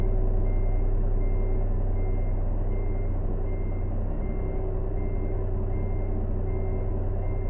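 An International 9800 cabover truck reversing in American Truck Simulator, its backup alarm beeping steadily and evenly over a constant low engine drone.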